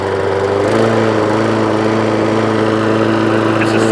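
A Hayter Ranger 53 petrol lawn mower, rescued from the dump and unable to reach full revs, runs at a steady engine drone with a constant buzz, loud and close with no talk.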